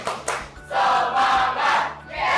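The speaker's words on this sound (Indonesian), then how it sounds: "Sekali lagi, tepuk semangat." A school class claps out a rhythmic 'tepuk semangat' spirit chant, bursts of clapping and shouted chanting from a crowd of pupils in a classroom, loud and close, several quick clap-and-shout phrases.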